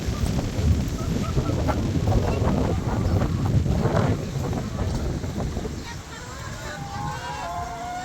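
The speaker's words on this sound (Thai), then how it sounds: "ลมแรง" Strong wind buffets the microphone outdoors in a garden on a cold day, a steady low roaring rumble throughout with a person talking over it.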